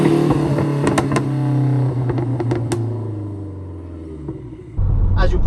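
A Lotus Esprit sports car runs with a low, steady engine rumble heard from inside the cabin, while someone talks over it; a louder surge comes near the end.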